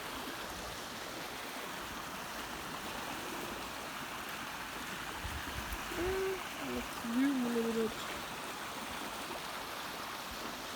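Water gushes down a stream in a steady, rushing wash that stays close and constant, while someone speaks briefly partway through.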